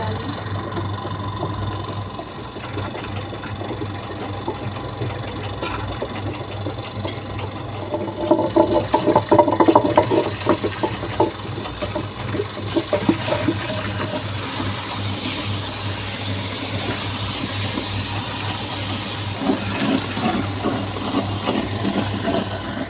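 A flour mill grinds flour in a steady, loud mechanical drone with a continuous motor hum and rattling, swelling briefly louder partway through, with no talking.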